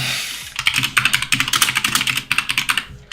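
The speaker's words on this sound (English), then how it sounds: "I'm sorry if my keyboard is very, very loud." Loud clattering keystrokes on a computer keyboard, a fast, steady run of sharp clicks close to the mic for about three seconds, with no voices.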